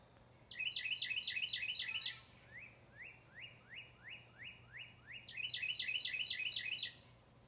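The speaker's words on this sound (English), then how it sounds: "Listen to the birds." Birds sing outdoors, one giving rapid repeated trilling phrases at the start and end while slower, evenly spaced chirps sound in between, faint and somewhat distant over a quiet background.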